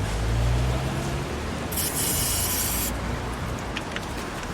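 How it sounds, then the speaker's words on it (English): Silicone spray hisses from a can onto an engine hose of a 1997 Honda Civic under rebuild, one steady burst of a little over a second amid low workshop rumble. "So put some silicone spray around it and see if we can slide it on."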